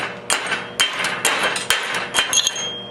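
A hammer chips slag off a 6013 stick weld bead in a series of sharp, close, metallic taps, irregularly spaced, with some quick double strikes.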